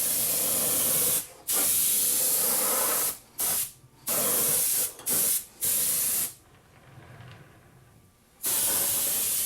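Spray paint hisses in several bursts as grimy black is applied to the inside of an O scale model freight car. The loud, steady sprays are separated by brief pauses, with a longer gap near the end, and no talk.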